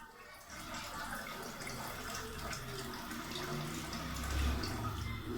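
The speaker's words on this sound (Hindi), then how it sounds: "ये देखें पानी जो है मैंने इसमें डाल दिया" Water poured gently into a cooking pot for chicken biryani, a soft steady trickle and splash running continuously at low level, no speech over it.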